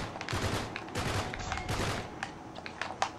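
Rapid bursts of gunfire from the video game Uncharted 3, with a player fighting from cover, crackle in quick repeated volleys. The shots come close and fairly loud, then thin out to a few scattered shots.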